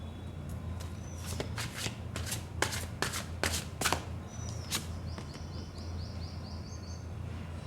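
A deck of tarot-style cards is shuffled by hand in quick riffling bursts, with a few separate snaps and flutters, close and fairly quiet, while birds chirp faintly in the background.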